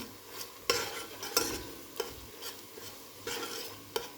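Tomato paste fries in hot oil for a green lentil stew, stirred with a utensil in repeated scraping strokes over a steady close sizzle, with no voices.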